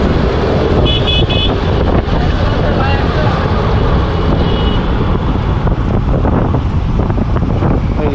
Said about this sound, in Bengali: বাসগুলি কীভাবে ওভারটেকিং করে দেখেন